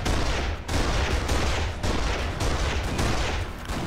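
Dense, sustained gunfire from multiple weapons crackles loudly in Kane & Lynch: Dead Men, coming in heavy overlapping bursts with brief dips between volleys and no talking.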